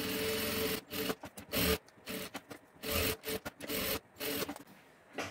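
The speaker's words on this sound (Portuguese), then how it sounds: "a gente vai passar uma costura em toda a volta" Thin running seam sewn by machine around the edge of a fabric pencil case, heard as close, choppy bursts of mechanical stitching broken by short pauses.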